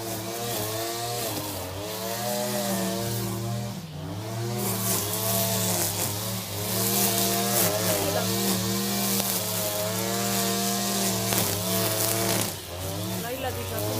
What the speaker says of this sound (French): Je sais pas si vous entendez, mais là il y a mon mari qui nettoie le gazon.